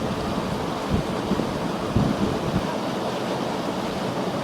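Steady rain and storm noise in a forest while out fishing for red-tail catfish, a broad continuous wash with a few low thunder-like thumps in the first half, no talk.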